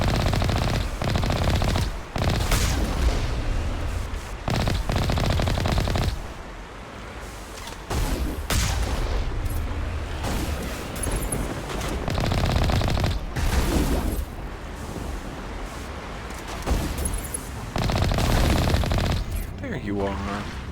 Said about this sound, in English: Fine, I'll use the cannon.